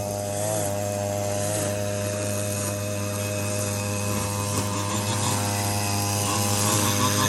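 A chainsaw drones steadily at close range, its engine holding a constant buzzing pitch as it works through wood, with no talking.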